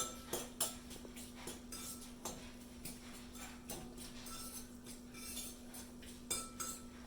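Diced hard-boiled eggs being mixed into tuna salad in a bowl with a utensil, giving a run of soft, irregular scraping clinks against the bowl, close and fairly quiet, with a steady low hum underneath.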